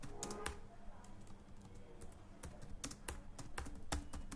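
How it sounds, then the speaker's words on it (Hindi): Computer keyboard typing during data entry in Tally Prime accounting software, a steady run of close key clicks with heavier strikes now and then, carrying on without a break. "सपोज हम लिख देते हैं पायल चौबीसा, एंटर करेंगे।"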